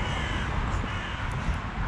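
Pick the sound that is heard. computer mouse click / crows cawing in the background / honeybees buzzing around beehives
crows cawing in the background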